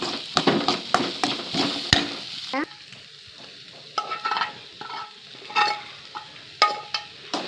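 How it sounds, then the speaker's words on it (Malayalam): A spoon stirs macaroni with biryani masala in a hot pan, scraping and clinking in quick strokes over a steady sizzle, loud and close, with no talking. "ബിരിയാണി മസാല കുറച്ച് ഇതെല്ലാം നന്നായിട്ട് ജോയിൻ ചെയ്യുക."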